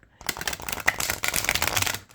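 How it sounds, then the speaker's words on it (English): An oracle-sized Christmas-themed card deck is shuffled by hand, a quick burst of riffling, flapping cards up close lasting about two seconds, with no speech over it. "Let's do a shuffle. I have not shuffled this deck."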